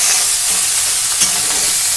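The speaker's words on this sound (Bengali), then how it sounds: "এবার কিন্তু এইভাবে নেড়ে নেড়ে ভাজবো।" Cauliflower florets are stirred and fried in a pan, with a continuous close sizzle broken by soft scraping strokes as the pieces are turned.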